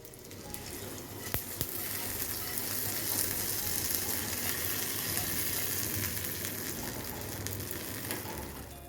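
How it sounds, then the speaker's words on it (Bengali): Spice tempering ingredients fry in a pan, giving a steady, fairly quiet sizzle with a few sharp stirring clicks early on, continuing evenly with no voices. "সমস্ত উপকরণ আরও কিছুক্ষণ আমি ভালো করে ভেজে নিলাম"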